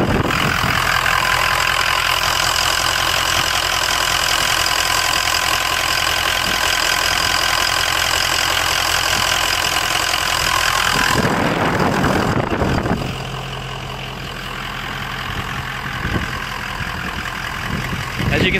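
A Ford F-250 with the 6.0L diesel idles close by, a loud, steady clattering rumble that runs continuously, then drops in level near the end as the engine note softens.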